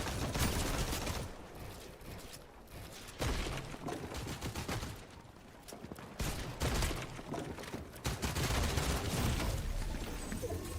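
Rapid bursts of gunfire in the Fortnite video game, repeated volleys and sustained automatic fire with brief gaps, loud and busy throughout.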